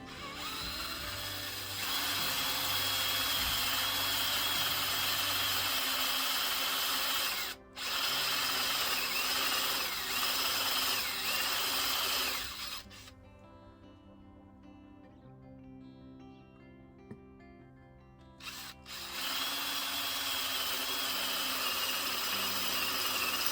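A power drill bores a hole through the steering shaft of a 1981 Jeep CJ7, running loud and steady in long bursts, with a brief pause, then a quieter stretch of whining, pitched motor hum before drilling resumes.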